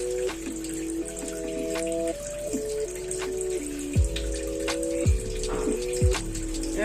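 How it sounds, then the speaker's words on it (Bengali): A little water, left over from rinsing a bowl, is poured into a cooking pot while making steamed hilsa fish (ilish bhapa), giving a close, steady trickling and gurgling pour with a few louder splashes. "আর একটু জল দিয়ে দিই, সামান্য জল দিয়ে দিই, বাটি ধোয়া জলটা দিয়ে দিলাম।"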